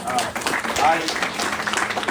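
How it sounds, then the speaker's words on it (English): At a policy conference, an audience's brief, diffuse applause swells in the room while a voice talks over it. "Let's give them a round of applause."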